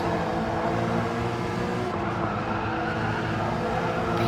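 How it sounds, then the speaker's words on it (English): A race car in a racing video game slides through corners in a league race, with a loud, continuous engine roar and tyre squeal filling the whole stretch without a break. "The car sliding more than driving through the corners, but still keeping good control of it."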